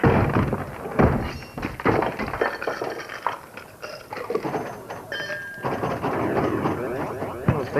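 Ice cubes drop into a glass of Coke, giving several hard clinks and thunks up close, followed by scattered clatter and faint background noise.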